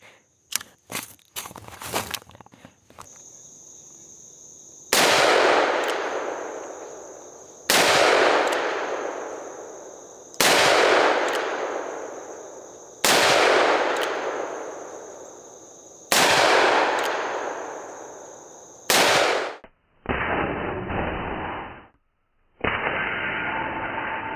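Colt Boa .357 revolver shots fired single action at an outdoor range, six loud sharp reports spaced about three seconds apart, each followed by a ringing decay, after a few quick handling clicks.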